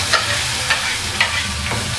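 A single dried red chili is tempered in hot oil for a Madurai-style chutney, crackling and sizzling steadily up close, with a few sharper pops over the constant fry.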